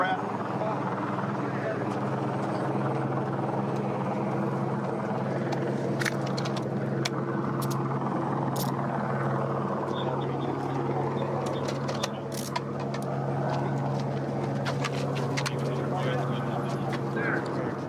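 A police helicopter circling overhead gives a steady, continuous rotor drone that holds at an even level throughout, while people talk underneath it.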